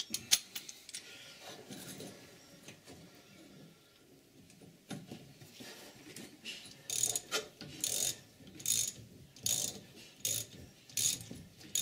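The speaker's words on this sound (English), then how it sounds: "Yeah, we'll carry on with the ratchet" On a Triumph Vitesse, a hand ratchet is worked on long rear suspension studs, clicking in quick, close bursts of short strokes that pick up in rhythm toward the end, with no talking.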